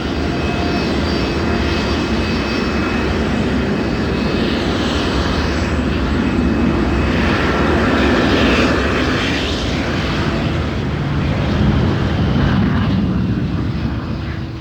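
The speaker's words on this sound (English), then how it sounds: "a plane is either taking off or landing every 30 seconds" A plane taking off or landing at Heathrow Airport gives a loud, steady engine roar that fills the whole stretch, swelling slightly toward the end with no voices.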